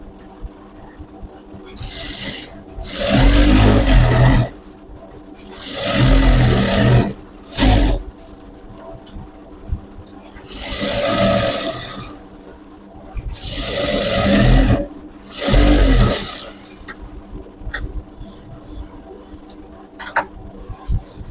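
Sewing machine stitching a salwar, running in six or so short bursts of a few seconds each, separated by quiet pauses, close and fairly loud with a steady mechanical whir during each run.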